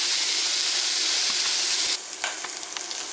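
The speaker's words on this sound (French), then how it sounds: "Je fais cuire les steaks et ensuite le bacon" Steaks and bacon sizzle loudly in a frying pan, a steady dense crackle that drops to a quieter, spattering fry partway through, with no voices.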